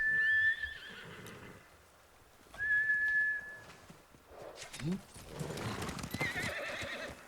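A horse in the video game Ghost of Tsushima whinnies twice with high, wavering neighs, followed by close hoof clip-clops and snorting as it moves about.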